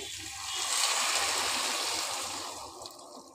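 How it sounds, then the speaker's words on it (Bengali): Water is poured into ghugni in a cooking pan, a soft, continuous splashing pour that swells and then tapers off over a few seconds, fairly quiet and heard alone. "এবার আমি জল দিয়ে দিচ্ছি।"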